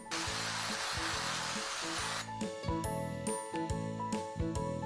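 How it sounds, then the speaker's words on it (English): A hissing burst of cooking spray onto a muffin tin lasts about two seconds, followed by a series of clanking metallic taps against the tin. "So I'm going to spray my muffin tin and then pour this inside."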